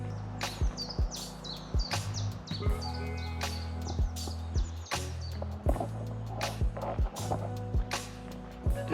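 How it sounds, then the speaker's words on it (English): Birds sing and chirp in a quiet common wood near Windermere, with bright calls repeating close by over a faint, steady hum of the main road behind. "You can just still faintly hear over the birds the main road to our rear"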